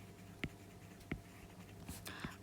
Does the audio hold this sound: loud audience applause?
no